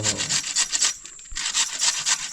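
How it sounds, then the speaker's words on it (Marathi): Cucumber being grated by hand for a traditional Konkani village breakfast, a rhythmic rasping scrape repeated in quick strokes, close and clear, with a brief pause midway before the strokes resume. "तर असं किसून घ्यायचं पूर्ण"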